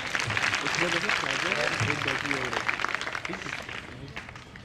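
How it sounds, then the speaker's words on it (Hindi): Alumni audience at an IIT Kanpur golden jubilee reunion of the 1965 batch applauds a professor, clapping running under a speaking voice and slowly thinning toward the end. "एक बार सर के लिए और ताली हो जाए"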